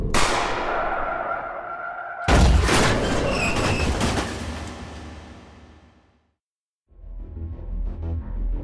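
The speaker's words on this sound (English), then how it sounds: "witnesses around the area heard multiple gunshots coming from the inside of the car" A sharp, loud burst of gunfire inside a car in a sound effect, a sudden crack with ringing decay after a fading whoosh, then silence and a low rumble.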